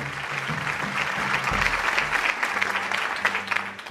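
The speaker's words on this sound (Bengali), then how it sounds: "স্যারদের জন্য একটু হাততালি হোক" A burst of audience applause at a youth discussion event at UIU, many hands clapping steadily and fairly loudly for several seconds, with a faint hum beneath.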